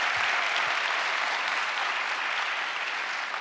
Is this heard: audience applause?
yes